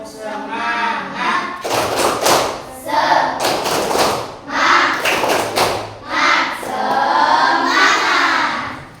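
A school class in an Islamic religious education lesson claps and chants together in rhythm, loud, close bursts of hand claps and young voices repeating in a lively pattern.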